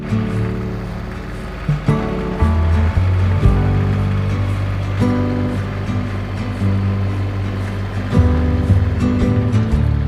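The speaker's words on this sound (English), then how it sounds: "What I love about this tractor, it has a creeper gear, so it goes nice and slow," A tractor drives slowly in creeper gear while turning over garlic beds, a loud steady low engine rumble with gear and load changes shifting its pitch throughout.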